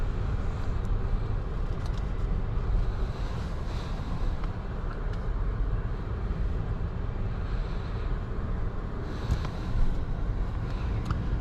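Steady, muffled road and engine rumble inside a 2022 Genesis G90 3.3T luxury sedan on the move, with a constant low broadband hum and faint wind noise and no talking throughout.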